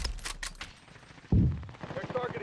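Gunfire in the video game Call of Duty: Warzone, a few sharp rapid cracks early, then a heavier close burst followed by rattling shots, under game ambience.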